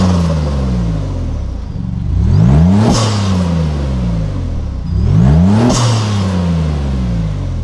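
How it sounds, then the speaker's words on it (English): A Maserati MC20 drives past with its engine revving up repeatedly, loud rising whirs and turbo whooshes in two accelerating pulls, each ending in a sharp hiss. "it's constantly putting these incredible turbo sounds right into you"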